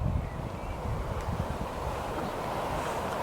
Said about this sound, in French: Il y a du vent, j'espère que vous allez m'entendre.